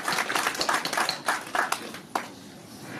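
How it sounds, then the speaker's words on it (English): Scattered audience clapping at a clinic launch event, a small group of hands beating in uneven bursts that taper off into quieter room noise. "So we can give a round of applause for her to come and stay for me."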